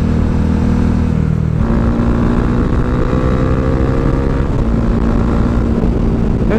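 A Bajaj Dominar 400 motorcycle engine pulls hard as the rider climbs through the revs, a loud, steady close-up drone whose pitch steps up as the bike accelerates, with no speech.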